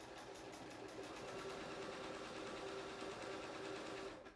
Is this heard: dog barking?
no